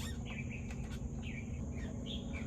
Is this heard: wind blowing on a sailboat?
no